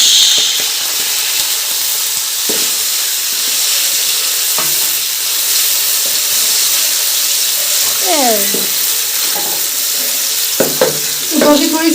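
Chopped onion hits hot oil in a village kitchen pan for kadhi pakora, giving a steady broad sizzle with occasional clinks and stirring scrapes, and someone talks in the background.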